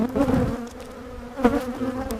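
Honeybees swarm around an open beehive during an inspection, a steady close buzzing hum that swells briefly twice as bees pass near, with no talk.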